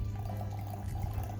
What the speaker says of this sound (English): We're gonna pour just that in.